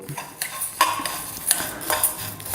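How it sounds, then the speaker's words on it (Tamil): Coriander seeds are dry-roasted in a pan for herbal tea, and a spoon scrapes and stirs them with quick light metallic clinks and ticks, close by and steady, with no speech. "கொத்தமல்லி ஒரு இளம் வறுப்பாக வறுத்துக்கொள்ளவும்"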